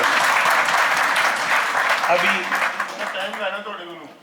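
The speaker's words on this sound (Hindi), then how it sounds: "तालियाँ हो जाए" Audience applause at a mushaira poetry gathering in London, a dense, loud burst of clapping that slowly thins and fades toward the end.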